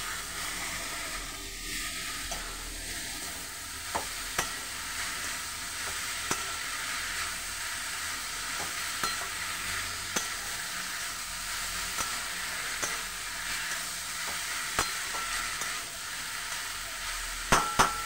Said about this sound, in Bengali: এই যে মোচা দিয়ে এখন নাড়াবো